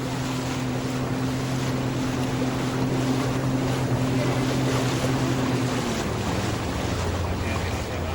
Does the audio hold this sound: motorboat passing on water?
yes